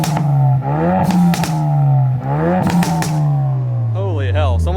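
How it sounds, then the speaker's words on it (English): Ford Focus RS with an aftermarket exhaust revving hard close by, a loud rising and falling engine note with rapid crackles and pops, then easing back to a lower drone. "Let me get you exhaust note now."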